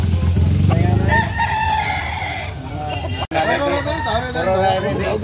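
A white Kelso gamefowl rooster crows loudly and close by, a long harmonic call that fades into further calling, with people talking and other background noise running underneath.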